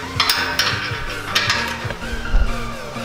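Rapid ratcheting clicks from a ratchet wrench tightening bolts on a 2017 Mustang GT Corsa Extreme exhaust, in close bursts with metallic clinks between strokes.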